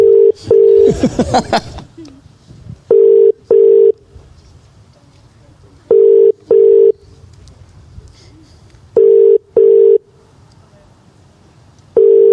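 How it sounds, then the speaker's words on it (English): A telephone call rings out in pairs of steady electronic tones repeating every few seconds, loud and close, with a burst of noise near the start and quiet room sound between rings. "You going to ring him again?"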